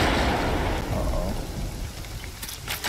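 A loud summer downpour in the cartoon Amphibia, a dense, constant roar of rain on surfaces with a deep low rumble beneath it, fading slightly toward the end.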